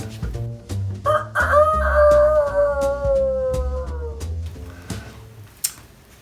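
A human voice imitates a rooster's crow, one long rising-then-falling call, loud and close, framed by soft clicks and breaths.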